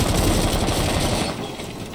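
Rapid, sustained automatic gunfire in the shooting video game Rainbow Six Siege during a collegiate match, dense and loud, rattling continuously for over a second before fading away.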